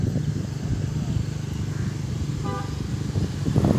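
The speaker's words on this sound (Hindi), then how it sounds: "गाड़ी का शोर आ रहा है, बड़ी पाँ फूँ कर रहा है" Evening street traffic near Jubilee Park, a low rumbling of cars and scooters with a short tonal horn toot partway through and more engine noise rising at the end.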